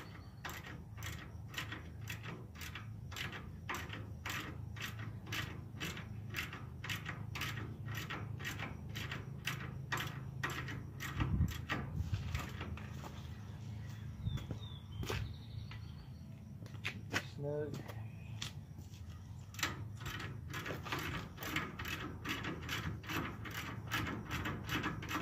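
Steady rapid clicking of a ratchet wrench loosening bolts on the front end of a 1934 Chevy Master, close and continuous, with brief pauses and a low background hum.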